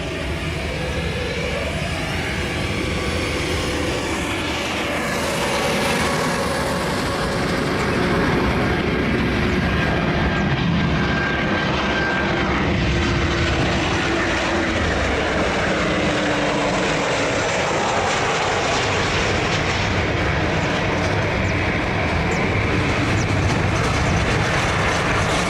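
A DHL Aviation cargo plane at Lisbon Airport roars steadily and loudly for the whole stretch, its broad engine rumble holding constant and close without any voices.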